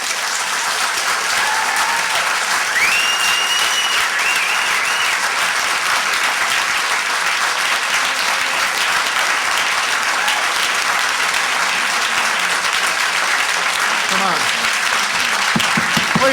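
Loud, continuous applause from the audience at a school board of education meeting after a public speaker, a steady dense roar of clapping throughout, with a few voices and a brief whistle mixed in.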